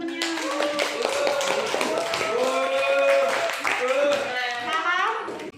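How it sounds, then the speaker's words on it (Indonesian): A high school class at SMA Negeri 1 Metro applauds a classmate with rhythmic clapping, mixed with children's voices chanting and calling out, steady and lively throughout. "Kasih tepuk tangan temennya."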